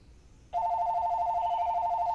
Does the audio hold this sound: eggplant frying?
no